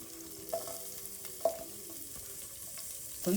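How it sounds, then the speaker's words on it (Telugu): Onions frying in hot oil in a pressure cooker for bagara rice, a soft, low sizzle with a few faint stirring knocks and scrapes against the metal. "ఆయిల్ వేడైన తర్వాత మనం ఆనియన్స్ వేసుకుందాం"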